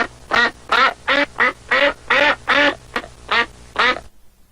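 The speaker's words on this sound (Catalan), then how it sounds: "I també hi vivia una ànega." A duck quacks loudly and close by, about ten raspy, evenly spaced calls in a rapid series before falling silent.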